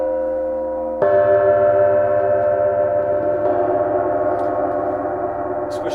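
A Paiste bronze gong struck with a medium yarn-wound marimba mallet rings out in a sustained, shimmering wash, with a second strike around the middle swelling the dense overtone hum, loud and close with no voices.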